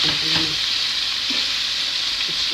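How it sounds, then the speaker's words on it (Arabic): Minced meat frying with onion and garlic in a pan, a dense, even hiss of sizzling held loud and close throughout, with faint clinks of stirring and no speech. "البصله والثومه شايفين كيف؟ نحط معاها اللحمه"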